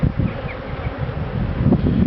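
Dense buzzing of honey bees around an open hive during an inspection, a close, continuous drone with faint wingbeat flickers and no speech.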